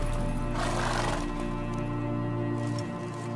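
Geralt's horse Roach in The Witcher 3: Wild Hunt lets out a loud, close neigh over a steady low game ambience, with soft hoof and movement sounds following.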